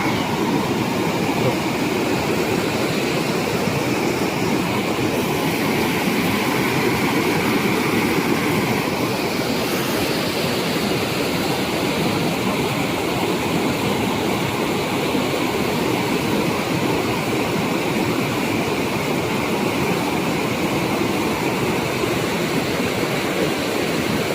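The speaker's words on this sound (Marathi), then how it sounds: "हा आहे धबधब्यावरचा नजारा." Water pours down the Van Lakshmi waterfall at Vangani, a loud, unbroken roar of rushing flow heard close and steady throughout.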